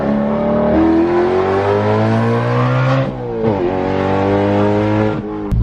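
Straight-piped BMW E92 M3 exhaust revving hard and loud up close, with long sustained raspy pulls, a brief dip around the middle, then another climb and a sharp drop at the end.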